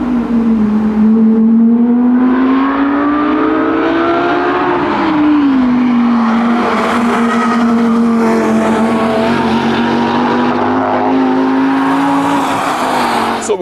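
A Lamborghini Huracán's 5.2-litre naturally aspirated V10 revs loud and close, its tone swelling and easing in a sustained, racing-style howl with a brief dip near the middle, and no one speaking.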